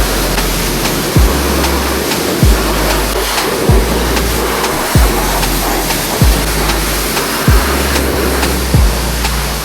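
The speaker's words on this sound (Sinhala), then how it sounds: "දැන් වතුර ගහන්න තියෙන්නේ." Water sprays steadily while a motorbike is washed, giving a loud continuous hiss and splash throughout, with a regular low thump about every second and a quarter underneath.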